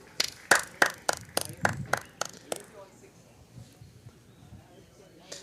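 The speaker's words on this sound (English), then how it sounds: "And the crowd goes wild." Golf crowd applauding after a putt at a tournament: a burst of sharp, fairly close claps in the first two and a half seconds, then fading to quiet background murmur.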